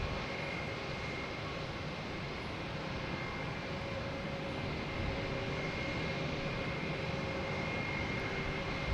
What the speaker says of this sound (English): There's the planes backing out here.